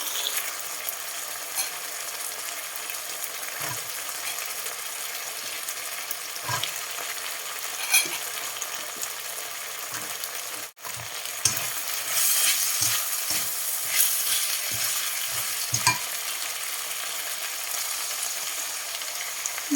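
Vegetables with beans and chilies stir-fried in a pan, with a continuous loud sizzle and scattered scraping stirs throughout, a brief sharp clack partway through.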